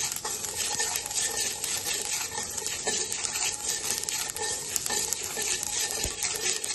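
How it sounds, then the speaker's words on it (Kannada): Dry spices crackle and pop while roasting in a pan for homemade sambar powder, a dense, steady sizzling with scattered sharp ticks and occasional stirring scrapes, close and continuous throughout. "ನೋಡಿ ಎಷ್ಟು ಚಟಪಟ ಅಂತಿದೆ ನೋಡಿ"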